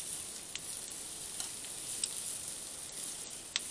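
An omelet frying in corn oil in a pan, a quiet continuous sizzle with a bright hiss and a few faint pops and ticks, heard close up with no talking.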